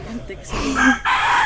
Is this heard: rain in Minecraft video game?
no